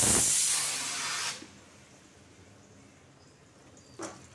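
A kitchen pressure cooker vents steam in a loud, sharp hiss for just over a second, then cuts off, leaving quiet room tone broken by one short fainter burst near the end.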